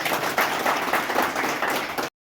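An audience at an outdoor wildlife-conservation celebration with villagers and trainee nature guides applauds: dense, steady clapping from many hands for about two seconds before stopping abruptly.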